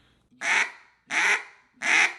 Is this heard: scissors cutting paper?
no